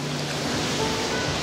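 Ocean surf washes in a steady, unbroken roar of waves, close and continuous, with no voices.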